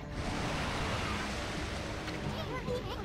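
Ocean waves swell and surge in the video game Okami HD, a steady, full wash of surf noise that holds at a constant loudness for the whole stretch, with a faint voice underneath.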